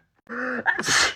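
A single sneeze from a person in a comedic skit: a short sharp inhale followed by a bursting, breathy expulsion, close and clear, lasting about a second.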